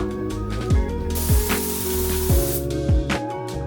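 A Mazda MX-5 drift car being spray painted: a continuous close spray-gun hiss with a steady tonal hum underneath and a few brief pulses along the way.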